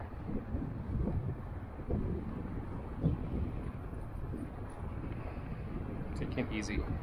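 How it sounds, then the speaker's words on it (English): Gusty wind buffets the microphone during an electric unicycle ride across a bridge, a steady low rumbling roar with swells that lasts throughout, close and loud, with a faint tone rising near the end. "The gust of wind is scary."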